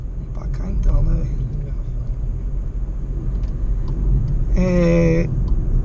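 Volkswagen Polo 1.0 with manual gearbox cruising in fifth gear through congested traffic, a steady low engine and road rumble throughout, with a brief burst of voice partway through.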